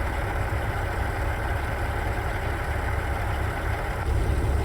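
A truck engine idles in American Truck Simulator, a custom matte black Peterbilt with a Zeemods sound mod: a steady, low, even rumble throughout, close and alone with no voices.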